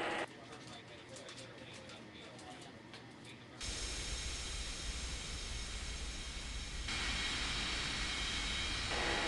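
An airliner takes off in an air traffic control mobile game. A quiet opening with light chirps gives way to a sudden surge of jet engine roar that builds louder toward the end.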